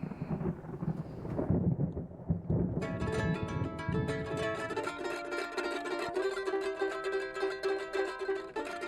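Thunder rolling during a storm with frequent lightning: a low rumbling roar through the opening seconds, then giving way to a sustained tonal, musical sound through the rest, moderately loud with no voices.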